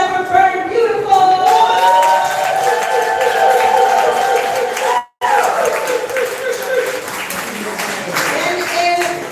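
Crowd at a poetry slam competition claps and cheers after a team's fourth-place score is announced, with broad sustained applause and whoops over a voice, briefly cutting out midway before resuming.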